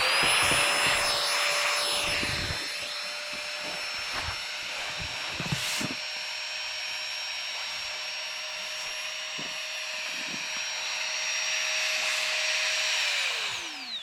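The GIGA Pump 4.0 portable mini air pump inflates an air mattress with a loud, continuous high-pitched motor whine that holds steady, then winds down sharply at the end.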